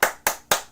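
Three sharp hand claps at an even, deliberate pace, each a crisp close slap with a brief decay, alone with no talking.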